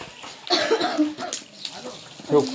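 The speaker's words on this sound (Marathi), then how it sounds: "तिला बरं नाही म्हणूपर्यंत ही खोकती" A few short coughs from a nearby person, mixed with brief vocal sounds, with a final cough at the end.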